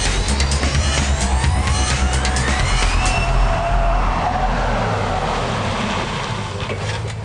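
A Range Rover Sport L320 accelerates hard and then brakes to a stop in a straight line, a loud sustained engine roar with rising tonal whine that fades slightly toward the end, with no voices.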